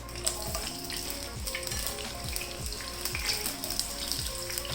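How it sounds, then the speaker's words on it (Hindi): Potatoes deep-frying in cooking oil in a kadai, a dense steady sizzle and bubbling with small repeated pops, close and continuous, no talking. "उसके अंदर ये मैं आलू डाल दूंगी, उसको क्रिस्पी होने तक अच्छी तरह फ्राई करना है।"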